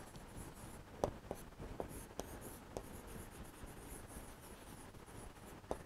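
Chalk or marker writes numbers on a classroom board, a soft steady scratching with sharp taps and strokes scattered throughout, faint and close, with no talk over it.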